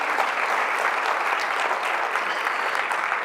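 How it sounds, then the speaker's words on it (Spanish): A church congregation applauds loudly and steadily at an evening worship service, a dense, continuous wash of many hands clapping that holds at even strength throughout with no voices standing out. "Den un fuerte aplauso a Él"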